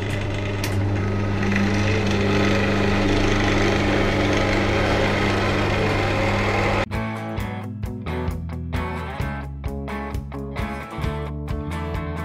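A wood lathe turns pen blanks, a steady loud whine of cutting for the first seven seconds, then the cut breaks into rough, intermittent chatter and knocks as the tool catches and lifts off the spinning wood.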